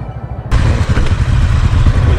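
A motorcycle engine roars close by on a road trip to Magsangyaw Holy Cross, starting abruptly after a half-second of low rumble and holding a steady, loud, rough drone with clattering texture, no talk over it.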